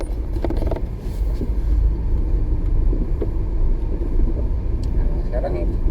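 A car engine idles and revs gently during a driving lesson, a steady low rumble filling the cabin with brief mechanical knocks, while an instructor talks over it.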